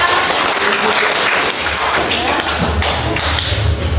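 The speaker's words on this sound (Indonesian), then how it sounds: "Beri tepuk tangan kepada kita." Classroom audience claps, a loud, dense patter of hands with some heavier thumps mixed in, continuous for a few seconds.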